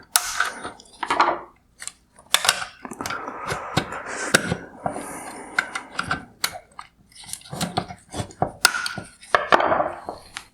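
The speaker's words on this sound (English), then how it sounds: "Next, I'm going to remove this upper plastic cover." Plastic clicks, scrapes and small taps from prying the upper plastic cover off a 2016-2019 Mercedes-Benz GLS550 OEM LED headlight during a teardown, a steady run of close handling noises with short pauses and no speech.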